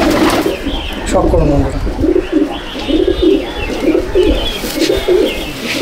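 Teddy, golden, kamagar and dabwale pigeons in an Icchapur loft coo in repeated throaty bursts nearby, while someone talks over them.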